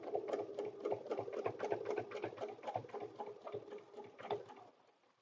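A sewing machine stitches a butterfly paper-pieced dresser scarf, running in a steady rapid patter of needle strokes for several seconds, close and fairly loud, then slowing and fading out at the end.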